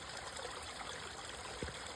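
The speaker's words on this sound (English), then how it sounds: "This is how we go to a spring and get water" Spring water on the Appalachian Trail trickles steadily as a soft, even outdoor wash with a faint splash near the end, nobody talking.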